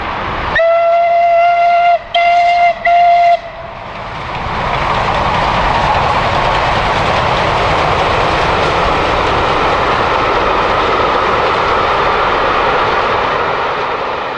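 A loud steam locomotive whistle, from the Clan Line, sounds in several short blasts, then gives way to a steady, heavy roar of the locomotive working at full power close by.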